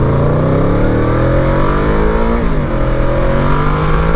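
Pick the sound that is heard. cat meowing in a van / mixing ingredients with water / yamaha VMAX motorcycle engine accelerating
yamaha VMAX motorcycle engine accelerating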